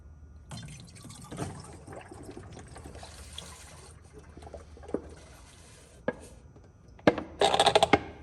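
Coolant pours and drips into a car's radiator overflow tank, a quiet trickle and splatter building to louder gurgling bursts near the end.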